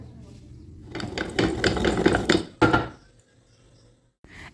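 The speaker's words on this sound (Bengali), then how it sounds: "এখানে এলাচ, লবঙ্গ, দারুচিনি আর শাহি জিরা আমরা একটু এইভাবে গুঁড়ো করে নেব" Cardamom, cloves, cinnamon and shahi jeera being ground into powder, giving a loud, rough, rhythmic grinding burst that runs for about two seconds, then stops abruptly, followed by a short quiet gap.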